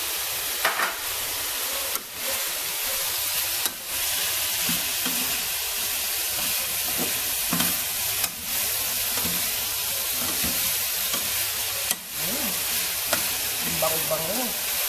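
Lemongrass and bay leaves fry in a pan with a steady, soft sizzle and crackle, broken by a few brief stirring clatters.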